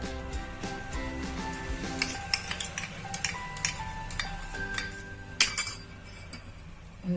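A spoon beats dudhi dhokla batter with oil in a bowl, giving repeated clinks and scrapes against the bowl at close range, steady and rhythmic with no talking.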